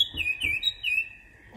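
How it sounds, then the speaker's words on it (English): An oriole sings a few clear, fluting whistled notes in quick succession, bright and close, with a quiet pause before a final soft call. "sing some more, Oriole"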